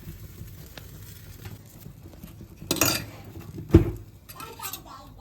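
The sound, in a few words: spoon scraping charred skin off roasted eggplant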